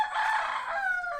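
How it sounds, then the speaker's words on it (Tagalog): A rooster crows once in a long, drawn-out call, close and clear, with no talking. "alaga kong manok"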